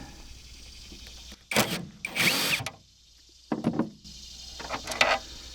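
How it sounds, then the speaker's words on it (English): A power drill backs T30 screws out of the rail system on a 2023 Toyota Tacoma bed, in three close, loud whirring bursts separated by short pauses and no talk. "you can see it also has those T30 screws down in here. So I'm going to go ahead and remove those"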